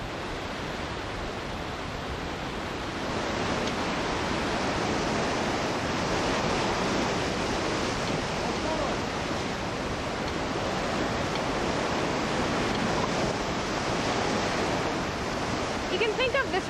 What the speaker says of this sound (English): The clues to the uplift are found in the fast-flowing rivers that tumble through these valleys.